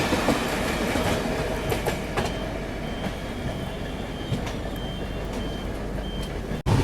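Duronto Express passenger train running on tracks out of Sealdah, with a steady loud rumble and rattle of wagons throughout, a few faint clanks, and a brief dropout near the end.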